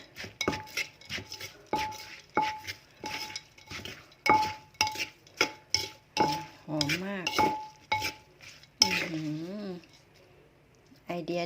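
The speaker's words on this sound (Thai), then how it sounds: "ตำให้ละเอียดหน่อย มันไม่ทันใจเลย ใส่หมดนี่เลย ใส่ถั่วหมดนี่เลย" Peanuts pounded in a mortar for a Thai green mango salad: a steady run of sharp, close knocks and clinks, with someone talking over the strikes, which stop near the end.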